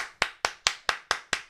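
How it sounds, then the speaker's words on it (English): One person claps slowly and evenly, seven crisp, close hand claps spaced about a fifth of a second apart, each ringing briefly before the next, with no talking over them. "I'm gonna give you a round of applause."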